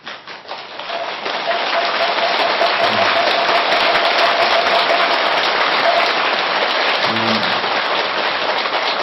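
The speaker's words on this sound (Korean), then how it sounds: "감사의 박수" A hall audience at a Buddhist dharma service breaks into sustained applause of thanks, a dense, steady patter of many hands clapping that carries on for several seconds without speech.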